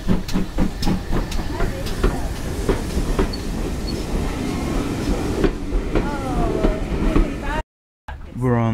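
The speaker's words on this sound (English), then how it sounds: "It's actually coming the right way around this time." A steam train rumbles and hisses nearby with rhythmic chuffing and clanking, a steady rolling roar, while people talk over it.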